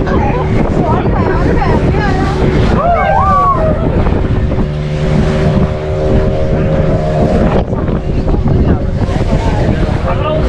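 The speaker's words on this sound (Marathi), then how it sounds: "आज लाटा एवढ्या मोठ्या सुटल्यात ना की बोट लिटरली अशी जाते" A boat rides over big waves on a dolphin safari off Goa, its engine drone and wind buffeting steady and loud throughout, with splashing water and people's voices mixed in.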